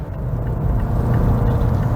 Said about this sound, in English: you hear that little engine comes to life